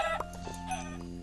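Chicken clucking in the Minecraft video game, a few short clucks over a steady tonal game background, fairly close and clear with no talking.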